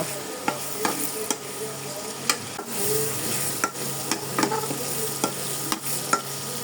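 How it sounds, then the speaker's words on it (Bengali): Shrimp stir-fried in a pan for a winter vegetable dish, with steady sizzling broken by a string of sharp scraping strokes from the spatula, close and fairly loud, with no talking. "এখন চিংড়ি মাছ দিয়ে দেব। আরও কিছুক্ষণ কষিয়ে নেব।"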